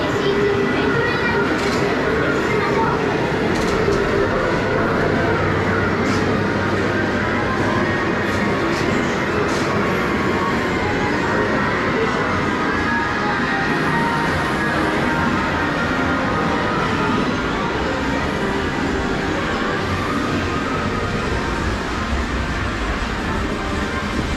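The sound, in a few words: train driving arcade video game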